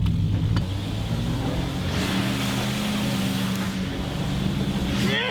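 A Nissan Pathfinder mud bogging outdoors, its engine rumbling and revving in a steady, sustained drone with a faint watery wash beneath, loud and close throughout.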